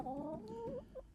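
Hens clucking close by in a farmyard coop in cold, frosty weather, a few short rising and falling calls one after another over a low steady background.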